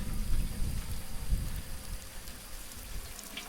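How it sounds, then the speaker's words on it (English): Simulated rain from a rainmaker spattering onto the ground outdoors, a soft continuous patter over a low rumble at moderate distance, fairly quiet and unbroken. "And now our rain is hitting the ground"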